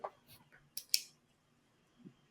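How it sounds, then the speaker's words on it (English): A pen clicks a few times, with brief sharp snaps close to the microphone and short gaps between them, in an otherwise quiet room. "I hear the pen clicking"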